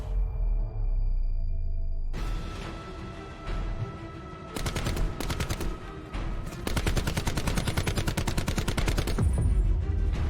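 Wall-bang gunfire in Black Ops 4 erupts in loud, rapid bursts of automatic fire that grow denser and almost continuous toward the end, over a low background hum, with no talk.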